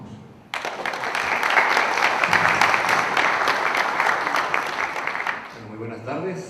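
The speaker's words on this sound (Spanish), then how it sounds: "por favor recibamos con un aplauso" Conference audience applauding for a speaker, a sudden burst of dense clapping that holds steady for about five seconds and then fades as a voice begins.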